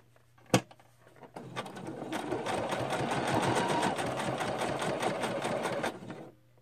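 A sewing machine zigzag stitching a paper tag for a junk journal: a sharp click, then a continuous close whirring run of stitching for several seconds that stops abruptly.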